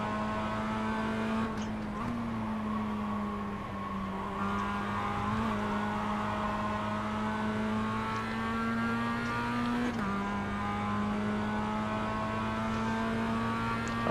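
Steady race car engine drone in a racing game, a Mazda running behind a slow BMW, holding a sustained whine with slight pitch rises and dips throughout.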